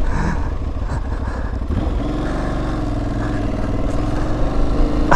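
An Aprilia Tuareg 660 motorcycle engine drones steadily up close, a continuous throaty rumble that holds for the whole stretch with slight shifts in pitch.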